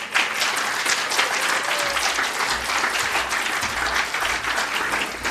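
Audience applause fills an awards night for community sponsorship, dense steady clapping that holds loud and even throughout, with a low rumble of the room underneath.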